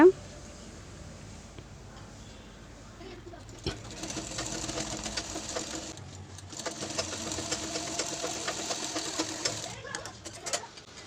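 A sewing machine stitching a blouse hums quietly, then settles into a steady rattling run of stitches for several seconds. A voice talks over parts of it.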